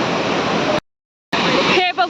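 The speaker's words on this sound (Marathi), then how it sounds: "हे बघू शकता किती सुंदर असा धबधबा आहे" The Godchinmalki waterfall in a scenic natural setting, a loud continuous rushing roar of falling water, broken by a half-second dropout, then returning with a voice speaking over it.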